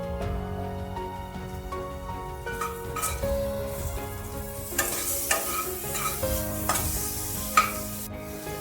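Garlic paste dropped into a hot pan for a fish curry with potato and brinjal, a steady close sizzle with a run of light stirring clicks and scrapes, louder toward the end.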